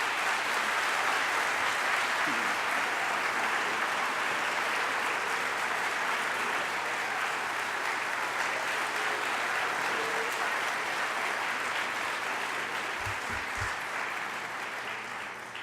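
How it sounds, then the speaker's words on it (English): Warm, sustained audience applause at a lecture series for a jazz band's musical entertainment, a dense, even crowd of clapping that holds steady for a long stretch before gradually tapering off near the end. "let's have a warm round of applause for our musical entertainment"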